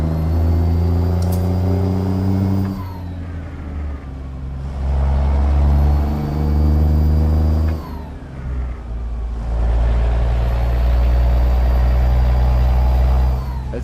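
A Kenworth truck engine in American Truck Simulator gives a deep, low burble that rises and falls through three revving pulls, with brief dips between gear changes, loud and close with no talk.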